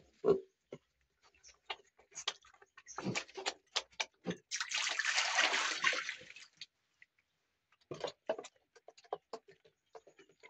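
Water splashes into a piglets' water container in a steady two-second burst, surrounded by scattered knocks, clicks and quieter shuffling.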